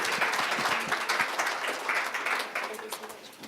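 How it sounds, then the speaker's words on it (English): Applause from an audience at a leadership talk, dense steady clapping filling the whole stretch, loud and close with no break. "let's give him a round of applause."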